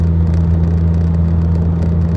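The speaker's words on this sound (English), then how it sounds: "I'm actually getting onto a highway off ramp right now, 60 miles an hour." Interior of a car driving onto a highway at about 60 mph, a loud, steady low engine and road drone with constant broadband rumble, no voices.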